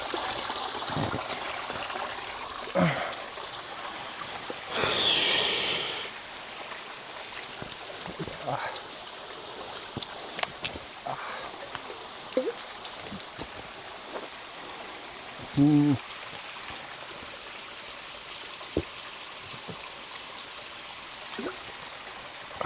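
A forest stream on the Kumara Parvatha trek trickles and flows in a steady, soft wash of water, broken by a few short splashes and faint handling noises, with no talking.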